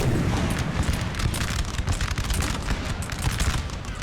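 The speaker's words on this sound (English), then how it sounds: "they're firing scatter shot" Artillery firing scatter shot in Napoleon: Total War, a dense, continuous roar of cannon and musket fire with overlapping booms and crackles, loud and sustained throughout with no clear gaps.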